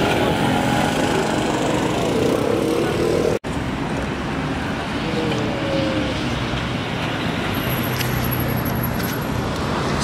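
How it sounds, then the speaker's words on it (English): Steady traffic on a busy street in Rome, cars passing nearby in a continuous moderate roar with engine hum and road noise, briefly cut by a sharp gap before resuming. "Still quite a bit of cars."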